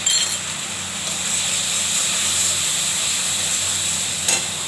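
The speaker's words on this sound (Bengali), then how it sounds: "ভালো করে কষিয়ে নেব।" Tomato, salt, turmeric and cumin sauté in a pan for a Bengali fish curry, giving a steady close sizzle with an occasional clink of stirring and no voices.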